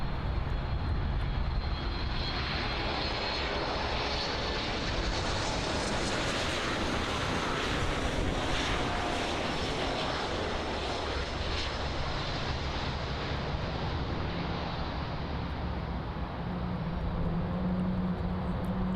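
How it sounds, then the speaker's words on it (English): American Airlines Boeing 737 MAX 8 arriving at Miami International Airport from San Jose: a powerful continuous jet roar that holds steady for the full duration, close and loud, with no talking over it. "Arriving in from San Jose, we have American Airlines flight AA1600. This is a Boeing 737 MAX 8."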